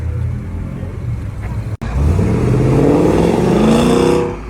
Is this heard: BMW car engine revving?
yes